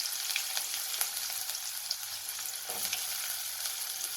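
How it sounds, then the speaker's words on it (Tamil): Onions and cumin seeds frying in hot oil, a steady mid-level sizzle with occasional light stirring scrapes and crackles throughout, with no voices. "2 கைப்பிடி போட்டுட்டு நல்லா வெங்காயத்தை பொன்னிறமாக வதக்கிக்கங்க."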